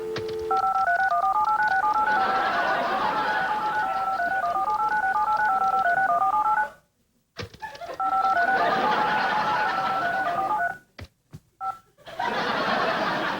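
Telephone keypad tones dialing to check voicemail: a long run of rapid, evenly spaced beeps stepping between two pitches, loud and close, broken by brief dropouts and then a second run of tones, with a few clicks.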